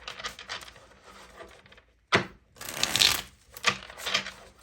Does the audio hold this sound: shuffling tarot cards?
yes